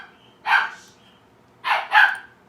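A pet dog named Lola barks indoors: one sharp bark, then a short double bark. Loud and close, over a low room hum.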